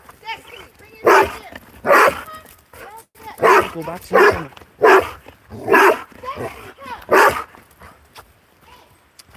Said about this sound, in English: the golden retriever has like a stick in her mouth and suddenly she's like very territorial